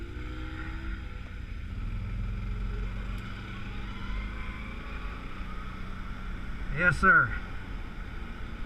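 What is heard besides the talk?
ATV engine while riding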